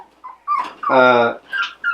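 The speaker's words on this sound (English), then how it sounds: "I get to love on little Diva puppies today. These puppies are doing awesome" Six-week-old Aussiedoodle puppies whimpering and yipping close by, a few short whines and one longer cry, with someone talking softly between them.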